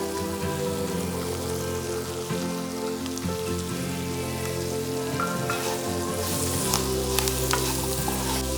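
Curry leaves and ginger sizzle and crackle in hot oil for a pickle, a dense steady frying hiss with sharper pops toward the end, close and alone.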